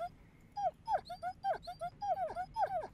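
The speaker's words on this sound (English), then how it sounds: "Got a little puppy." Small puppy in the indie horror game Home whimpers and yips in a run of short high, falling cries, close and fairly clear over a faint low background.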